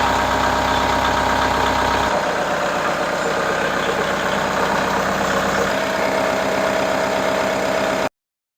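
A Kubota M5660 tractor engine, fresh from an oil change, idles loud and close with a steady diesel knock. Its tone shifts slightly a couple of times before it cuts off abruptly.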